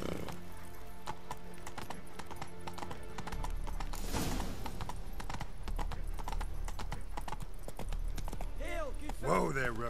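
Steady clip-clop of the horse Roach's hooves in The Witcher 3, a continuous rhythmic trot under a voice, with a horse whinny rising near the end.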